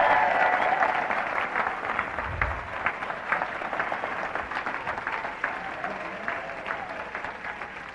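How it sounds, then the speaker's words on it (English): An audience at a prosperity seminar breaks into sustained applause, a dense steady patter of many hands clapping for several seconds, gradually easing toward the end. "Give her a round of applause."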